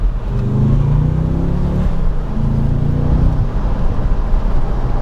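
A car engine revs up from inside the cabin, with loud rising tonal sweeps heard twice over a low road rumble.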